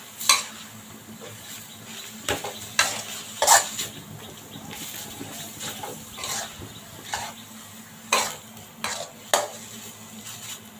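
Minced pork stirred and scooped in a pan for Northern Thai nam prik ong, with a soft steady sizzle and repeated close spatula scrapes and clinks against the pan at an uneven rhythm.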